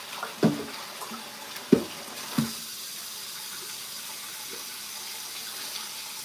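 A tap runs steadily into a sink as something is washed under it. A few hollow knocks and bumps come early on, then the water keeps a soft, even hiss, with no talking.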